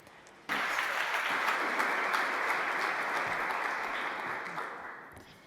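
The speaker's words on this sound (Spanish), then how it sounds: "un aplauso para Mamta Murthy, por favor" An audience at a global forum on social protection breaks into applause all at once, a full, even round of clapping that holds steady, then slowly thins and fades near the end.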